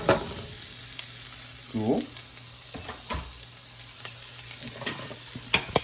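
Chopped onions hit a hot pan for stuffed peppers and fry with a continuous close sizzle, punctuated by sharp clicks and scrapes of a utensil; a person says a single brief word partway through.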